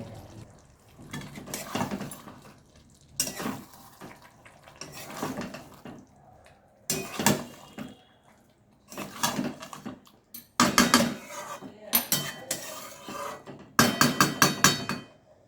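Mutton cooks in a covered pot and is stirred at intervals, producing irregular bursts of scraping, clanking and sizzling, close and moderately loud, separated by quieter stretches.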